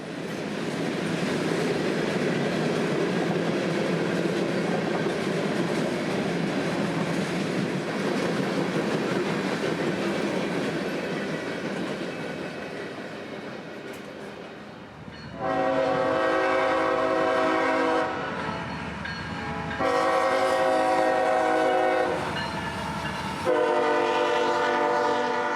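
A passing military train loaded with brand-new tanks: a loud, steady rumble of rolling cars, then repeated blasts of a multi-chime horn near the end, close and alone with no voices.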